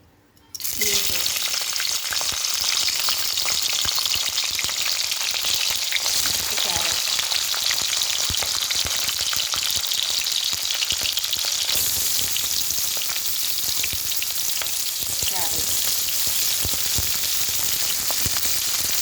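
Green chillies dropped into hot oil burst into a loud, dense sizzle that starts abruptly after a brief quiet moment and holds steady and close, with faint stirring underneath.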